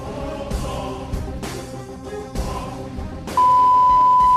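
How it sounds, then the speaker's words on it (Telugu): A shop security alarm emits a steady electronic beep, loud and sustained for about a second near the end, over a background of indistinct room noise and shuffling. "అందుకే బీప్ సౌండ్ వస్తుంది."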